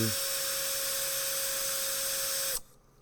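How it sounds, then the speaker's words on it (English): A small high-pitched drill bit whines steadily for a couple of seconds boring out a rivet, then cuts off abruptly, leaving quiet background noise. "then a small drill bit to bore out the center"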